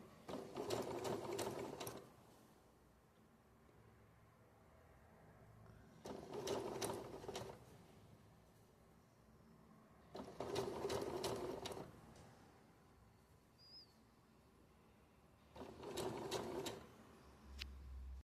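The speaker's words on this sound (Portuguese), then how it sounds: "E vai sempre costurar na velocidade mais baixa que tem." Sewing machine running at its lowest speed with a gathering foot, stitching fabric in four separate bursts of steady mechanical whirring with quiet pauses between them.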